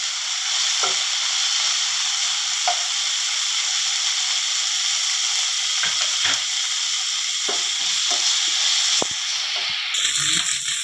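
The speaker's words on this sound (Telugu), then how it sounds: "అది కూడా నూనెలో వేగాలంటున్నారు." Tamarind fries in hot oil with a steady, close sizzle and hiss. Light scraping stirs come through at intervals, with no talk.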